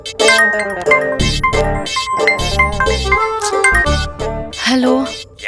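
A mobile phone rings with a melodic, tinkling ringtone for an incoming call in a Telugu short film, playing loud and continuous throughout with shifting chime-like notes.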